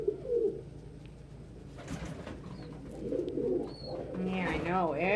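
Pigeons cooing in a room shared with pet birds: low, throaty rolling coos near and fairly loud, mixed with rustling, a few higher chirps and some speech-like vocal sounds.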